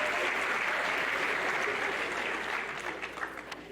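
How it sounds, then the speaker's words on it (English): Audience applause for a teacher during a graduation feature speech, steady and moderately loud at first, then gradually fading into scattered claps near the end. "Give her a round of applause, please."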